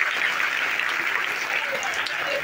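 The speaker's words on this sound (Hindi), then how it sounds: "अपने राजा के लिए जोरदार ताली होना चाहिए" An audience at a village Bhagwat Katha religious gathering claps loudly and steadily for a couple of seconds, a dense wash of applause.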